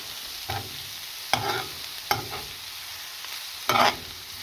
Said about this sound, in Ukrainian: Капустку я підсмажу.